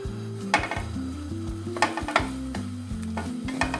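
Chopped onion and zucchini sizzle steadily in a frying pan, with a constant crackling fry and a few sharp clinks of a utensil against the pan.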